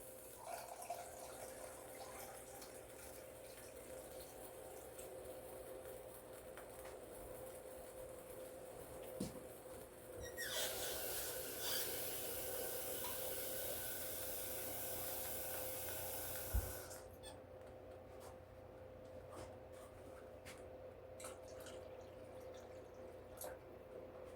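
Water is poured from a mayonnaise jar into a pot of neck bones and collard greens, a faint, steady rushing pour lasting about six seconds amid quiet kitchen background.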